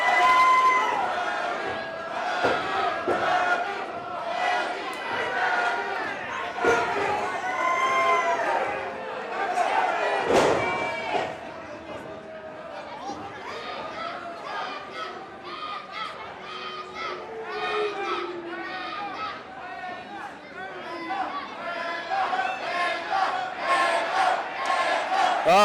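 A wrestling crowd at a hardcore event roars and chants wildly for the hardcore champion Panda, with loud, sustained shouting from many voices under a commentator's excited talk.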